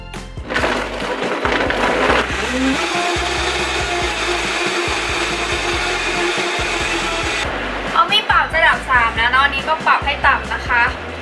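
A smoothie blender whirs loudly as it purées tortilla soup, a harsh, steady motor drone that stops partway through, after which a person can be heard talking.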